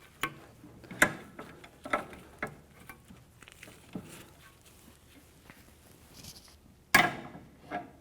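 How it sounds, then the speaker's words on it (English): A ratchet with a shallow socket turns the rear wheel hub bolts on a 2007-2013 Acura MDX, giving quiet, close clicking bursts with short metallic knocks in between. "in here we're using a shallow socket just for clearance"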